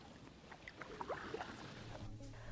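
A kayak paddle strokes through water in a quiet, faint splash and swish, part of a slow reverse stroke with a soft watery backdrop and no talking.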